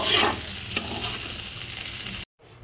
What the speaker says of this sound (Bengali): তেলের মধ্যে দিয়ে এবারে মাছটাকে আমি একটু লাল করে ভেজে নেব।